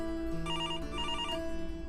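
A telephone bell rings in a home in repeated bursts, loud and close, over a steady background hum with no talk.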